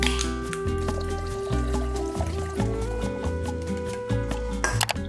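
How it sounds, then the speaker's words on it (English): Coconut water pours into a glass over ice, a continuous liquid fill and trickle with faint clinks, heard close over a steady background hum. "Then you fill to the top with the coconut water."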